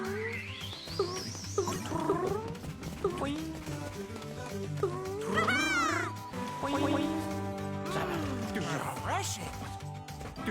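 Mouth-made sound effects replacing the game sounds in Super Mario Bros. Wonder with the Sound Off badge: a voice imitates boings, squeaks, slides and quacky chirps over steady background music, in quick succession.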